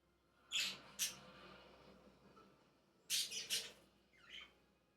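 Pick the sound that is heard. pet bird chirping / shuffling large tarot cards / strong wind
pet bird chirping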